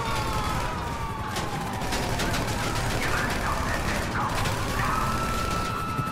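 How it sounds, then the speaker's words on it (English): Gunfire aimed at police in GTA Online, a loud continuous barrage of rapid shots with mechanical clatter and a high ringing tone running throughout. "Am I supposed to be shooting the cops? I'm gonna be shooting the cops."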